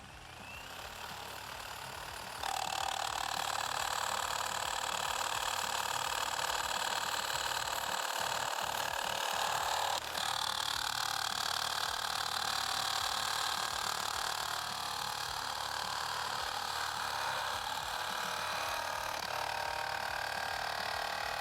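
A Milwaukee Sawzall with a bimetal blade cuts through wood embedded with 6mm hardened steel screws, a loud continuous buzzing rasp that holds steady for most of the time after a quieter start.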